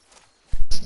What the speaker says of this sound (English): But I hear footsteps.